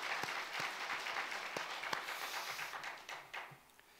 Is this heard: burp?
no